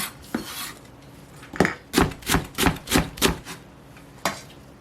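A knife chops garlic chives finely on a board for cucumber kimchi. Sharp, close strikes come in a quick even run of about seven, with a few isolated taps before and after.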